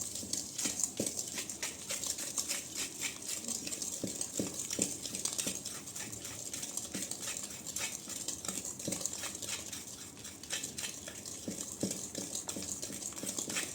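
Eggless cupcake batter with curd is stirred in a bowl, giving soft, continuous scraping and faint taps of the utensil, quiet and steady.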